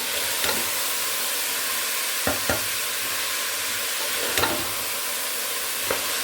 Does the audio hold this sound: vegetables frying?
yes